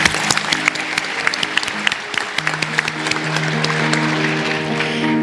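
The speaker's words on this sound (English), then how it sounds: "please help me give them another round of applause" Sustained applause from a large audience at a school district academic awards ceremony, steady clapping throughout with light background murmur and a faint tonal hum underneath.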